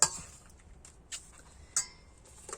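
A spoon stirring a fruit salad of melon balls, strawberries and coconut in a bowl, giving a few sparse, light clinks against the bowl with soft shuffling in between, close and quiet.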